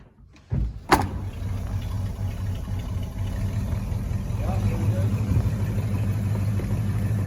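A 1985 Dodge Ramcharger engine starts with a short burst and then runs at a steady, close, rumbling idle, a low hum that continues to the end.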